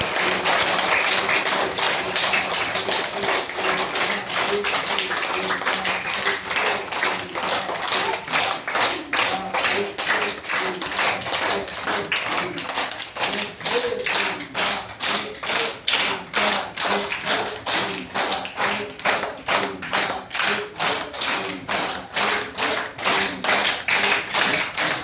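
Steady rhythmic hand clapping during a daily exercise routine. Dozens of close, even claps repeat at a regular beat for the whole stretch, with no talking.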